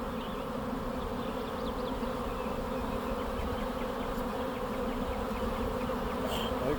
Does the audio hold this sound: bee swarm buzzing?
yes